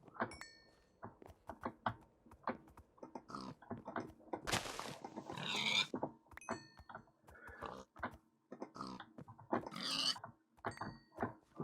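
Pigs in a Minecraft Lord of the Rings mod grunt and oink in short, scattered bursts around the Shire, fairly close and clear, with occasional thuds between them.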